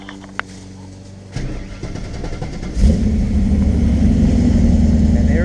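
A 4th-generation F-body car with a newly replaced fuel pump cranks, briefly catches, then fires up at about three seconds into a loud, steady idle close by.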